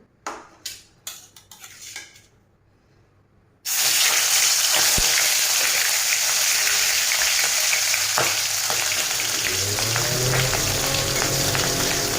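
Oil frying in a cooking pan bursts into a loud, continuous sizzle after a few seconds of quieter clattering. The hiss stays dense and close until the end.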